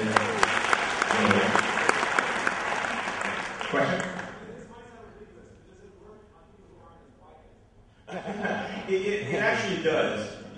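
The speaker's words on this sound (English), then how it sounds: "another round of applause for something very amazing" A crowd at a tech meetup bursts into loud applause, which fades beneath a speaking voice, then a second round of clapping swells back up.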